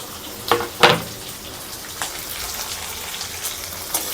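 Garlic and onions hit hot oil in a pan for a Telugu cucumber chutney recipe, giving a couple of sharp sizzling bursts that settle into a steady soft frying hiss, close by with no talking.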